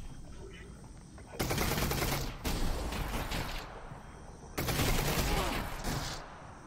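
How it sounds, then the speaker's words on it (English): Combat shotgun fire in the virtual-reality game Half-Life: Alyx: two loud, sustained stretches of rapid gunfire with a short pause between them, set against a quieter low background hum. "Combat shotguns."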